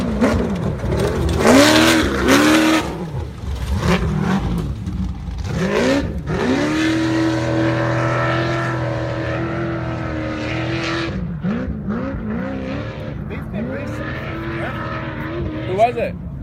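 Off-road race vehicle in Parker 425 desert qualifying roaring past, engine swelling loud then sustained and fading, with people talking over it throughout.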